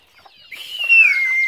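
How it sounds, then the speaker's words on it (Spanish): Young chicks waiting to be fed let out a sharp, rising high-pitched peep that swells from faint to loud, close up, with no one talking. "ahí están los pollitos"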